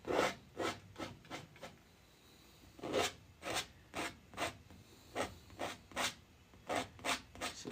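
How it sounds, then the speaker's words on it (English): A painting knife scraping oil paint off a canvas in repeated short strokes, a soft close rasping rhythm with brief pauses and no talking. "You can literally scrape this off, do a tree-ectomy, and scrape it off."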